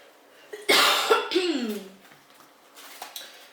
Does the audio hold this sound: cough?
yes